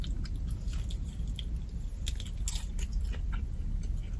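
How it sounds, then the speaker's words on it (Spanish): Someone bites and chews a McDonald's McCrispy Legend chicken burger with a crunchy breaded coating and bacon, giving close, repeated crisp crunches and wet chewing sounds, with no talking. "Cruje mucho, se nota que el rebozado es especial para que cruja y para que aguante."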